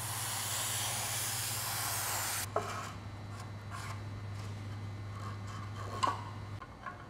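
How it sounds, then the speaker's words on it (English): Brake cleaner sprays in a steady hiss into the valve cover gasket groove of a Toyota Camry 2.2L engine, then cuts off after about two and a half seconds. A few faint taps and rubs follow. "next we'll get some brake clean and clean out this groove where our new valve cover gasket is gonna sit in"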